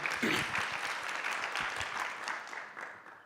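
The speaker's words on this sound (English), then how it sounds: "Please, let's give them a round of applause, a big one" Panelists at a TVET college policy conference receive a steady wash of audience applause from a large room, moderately distant, slowly tapering toward the end.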